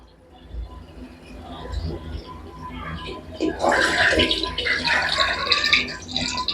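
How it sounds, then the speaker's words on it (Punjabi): Water, about seven or eight glasses' worth, is poured into a cooking pot for a black chickpea curry made on a stove. It starts as a soft trickle and swells into a loud, steady gushing splash for the last few seconds. "ਮੈਂ 7-8 ਗਲਾਸ ਦੇ ਕਰੀਬ ਜਿਹੜਾ ਪਾਣੀ ਪਾ ਲਿਆ"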